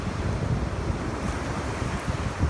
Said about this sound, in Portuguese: Eu fiquei quase 5 minutos filmando as ondas deslizando sobre as pedras